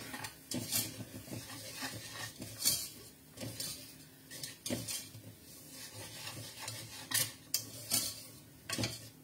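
A utensil scrapes and stirs steadily through a butter and flour roux in a pan, soft cooking sizzle underneath, clinking against the metal in irregular strokes.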